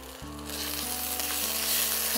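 Ginger paste drops into hot oil and bursts into a sudden, loud, steady sizzle that swells slightly as it keeps frying, with no voices.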